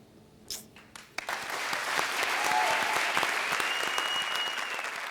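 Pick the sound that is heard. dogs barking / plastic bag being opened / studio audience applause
studio audience applause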